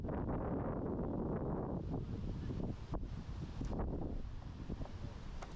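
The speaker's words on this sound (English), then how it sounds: "Very windy out here." Steady wind buffets the microphone outdoors at a classic car auction at Mercedes-Benz World, Brooklands, a continuous low roar with gusty fluctuations and no voices.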